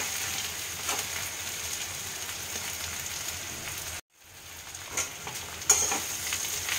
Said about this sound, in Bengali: এবার খালি ভাজার পালা।